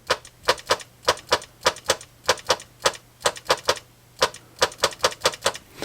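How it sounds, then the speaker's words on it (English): A Sinden light gun with its recoil in quiet mode gives many sharp mechanical clacks from repeated trigger pulls, irregular but quick and close, with a faint steady hum underneath. "So now I'll actually pull the trigger on quiet gun."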